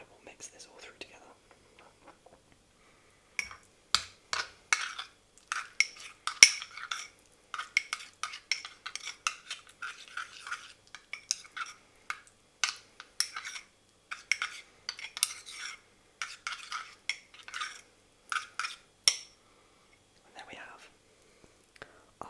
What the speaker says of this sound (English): And then I will mix this all through together.